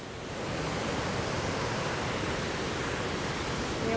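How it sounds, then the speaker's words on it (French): Strong wind and waterfall spray at large falls in Canada, a dense, constant roaring hiss that fills the whole stretch with no speech. "Il y a un vent de folie."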